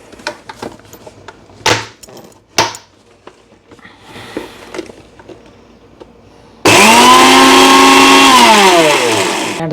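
A mixer grinder powdering roasted coffee beans with cardamom starts up after some clattering handling, then runs as a loud, steady whir for the last few seconds, its pitch sinking slightly as it loads.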